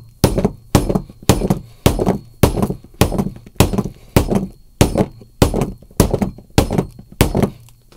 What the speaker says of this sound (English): we did get it to shatter, but I was banging extra hard on that one